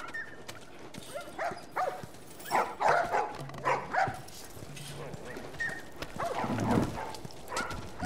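A puppy yips and barks in The Last of Us Part 1, giving a string of short, uneven calls over about eight seconds amid background game noise and faint footsteps, moderately close.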